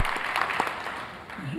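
Audience applause at a hall of fame event honoring Harkin, a short burst of clapping under a voice.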